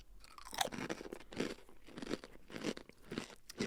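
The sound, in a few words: crunch of chewing cookies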